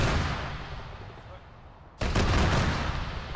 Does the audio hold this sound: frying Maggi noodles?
no